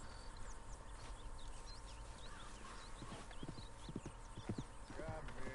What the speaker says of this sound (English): Let's see if I remember how to approach a wild horse.